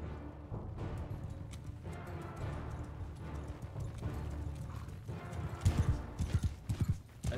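Cavalry horses gallop across a battlefield in Mount & Blade II: Bannerlord, a dense, continuous drumming of hooves that swells and grows louder and more clattering toward the end.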